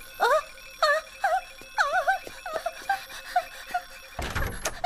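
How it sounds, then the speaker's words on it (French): Several electronic alarms ring together in warbling, repeating chirps with short gaps, ending in a sudden burst of harsh noise. "Oh, ce sont seulement tes réveils."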